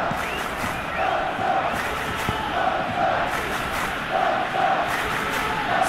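A stadium crowd in an eFootball match of Barcelona vs Dynamo Kyiv in the Champions League cheers in swelling waves, a dense roar that stays constant in the background.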